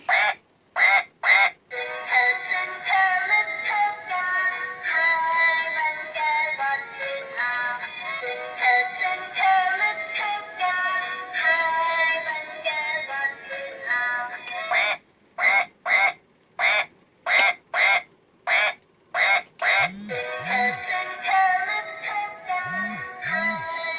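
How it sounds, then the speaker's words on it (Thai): A duck quacks loudly and repeatedly nearby, long bursts of harsh quacks with short pauses, becoming choppier toward the end. "อุ้ยเป็ดร้องละเป็ดร้องละ"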